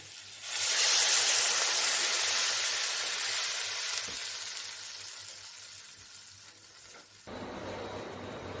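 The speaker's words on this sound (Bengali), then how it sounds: "দেখুন, ঝোল আমার ফুটে গেছে" Curry gravy with potatoes boiling in a pan, a steady bright sizzling hiss that swells in and slowly fades, close and alone, with a brief clatter near the end.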